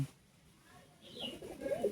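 An open-tailed pigeon coos in a short low burst that swells near the end, following a quiet pause, close and moderately loud.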